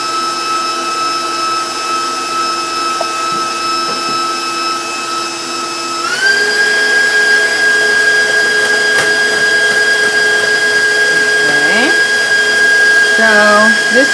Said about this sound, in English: I'm lifting the bowl so I make sure that the beater hits the bottom of the bowl. So while this is whipping